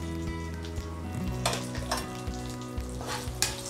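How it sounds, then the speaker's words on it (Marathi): Chopped almonds and cashews roasting in a pan over a low flame, a steady close sizzle with stirring scrapes and occasional clinks, over faint background music. "तर आता आपण ड्रायफ्रुट्स भाजून घेऊयात."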